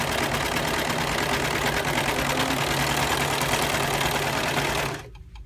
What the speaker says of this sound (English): Sewed all the way around it.